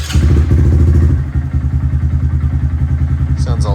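A Honda Grom motorcycle engine idles after a tune flash, a loud, rapid, even putter close by after a brief higher rev settles down, with someone speaking briefly.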